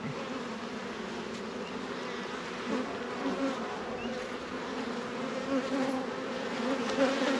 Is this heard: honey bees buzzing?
yes